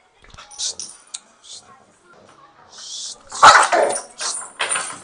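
A dog barks and growls in several sharp bursts, close by, with a person's voice speaking among the barks.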